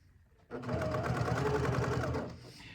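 A sewing machine stitches through a pre-made quilted hanger cover in one close, steady burst of rapid needle clatter lasting about two seconds after a quiet start.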